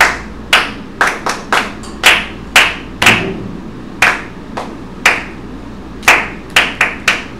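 A classroom of students claps a rhythm, sharp hand claps in irregular clusters of single and double beats, close and fairly loud over a faint room murmur.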